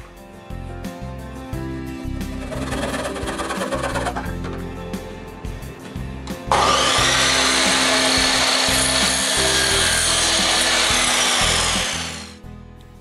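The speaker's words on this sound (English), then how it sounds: "I cut the strips to length." A power saw cuts wooden strips to length during a plywood airbrush spray booth build. A rough, continuous cutting run gives way to a second, louder and brighter cut, which then winds down.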